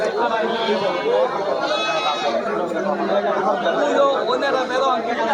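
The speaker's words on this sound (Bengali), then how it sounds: "দেখুন এই যে একটা ছাগল দেখতে পাচ্ছি" Goats bleat amid the busy chatter of a crowded goat market, with a few bleats rising over constant overlapping voices.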